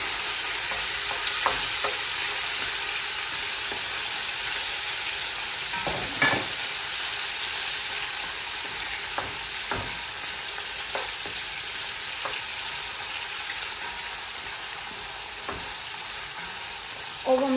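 Meat for Hungarian goulash fries in a pot with a loud, steady sizzle, broken by occasional clinks and scrapes of stirring.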